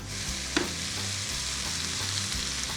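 Eggs with quelites and chiles cooking at medium-low heat in a pan, a soft sizzle under rhythmic spatula scrapes, with one sharp tap early on.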